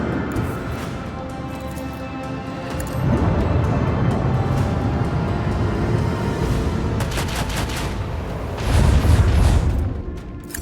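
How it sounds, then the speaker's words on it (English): A torpedo salvo launched in the Warhammer 40000 Rogue Trader game: rolling booming blasts with a heavy low rumble that swells midway and surges again near the end, without speech. "Torpedoes away!"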